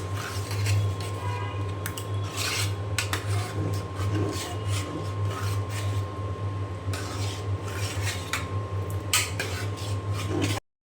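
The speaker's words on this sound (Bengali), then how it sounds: "এখন খুব ভালো করে নেড়ে চেড়ে আমি মিশিয়ে নেব।" Food is stirred and mixed in a pot during home cooking, giving intermittent scraping and clinking of the utensil against the metal over a steady low hum.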